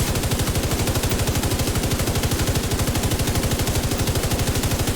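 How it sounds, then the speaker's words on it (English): A light machine gun fires in The Division 2 shooter, a long unbroken stream of rapid, evenly spaced loud shots at a steady automatic rhythm. "So again, let's start with the LMG."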